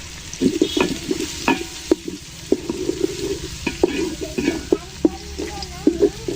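Bhuna khichuri cooking in a pot, stirred with repeated scraping strokes against the metal over a soft sizzle, the spoon knocks falling in an uneven rhythm close by.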